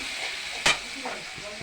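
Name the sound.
stirring spice masala in a pan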